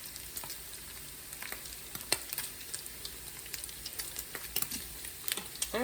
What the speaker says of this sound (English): we can get this bacon cooked up nice and crispy